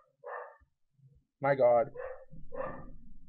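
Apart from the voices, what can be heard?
dog barking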